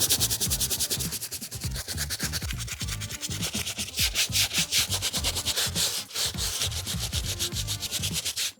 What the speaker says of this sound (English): This brush is only gonna be touching the midsole and the back rubber that I missed on the uppers.